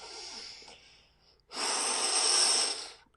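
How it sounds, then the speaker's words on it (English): A deep breath drawn in during a guided breathing exercise: a soft airy intake, a short pause, then a louder, longer rushing breath close to the microphone. "So you're going to breathe in"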